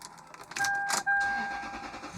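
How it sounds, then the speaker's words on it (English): A car engine starts close by: a short cranking burst, a brief pause, then the engine catches and settles to a steady idle, with chime tones sounding as it turns on. "Alright, so let's turn the car on."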